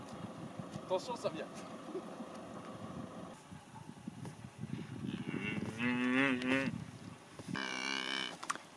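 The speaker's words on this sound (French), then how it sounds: "Et puis d'abord, on va donner à manger aux vaches." Cattle moo loudly and close at a farm feeding time, several drawn-out calls overlapping around the middle and end, with rustling movement and a person talking intermittently nearby.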